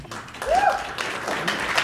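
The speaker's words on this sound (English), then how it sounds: "The applause is a little bit premature." Applause from an audience at a mayoral debate following a candidate's closing statement, moderate and mixed with crowd murmur and a brief voice in the room.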